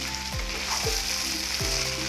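Meat sizzles steadily in a hot pan with ginger and garlic, a dense frying hiss running throughout with a few low thuds as pieces are moved; no voices.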